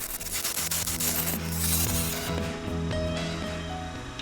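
Spindle roughing gouge cutting a spinning wooden workpiece on a lathe, a close, steady scraping rush that swells and eases over the lathe's humming motor, with no talking.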